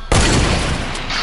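A sniper rifle fires in a video game: one sudden, very loud close shot with a heavy boom that rings out and sustains through the rest of the moment.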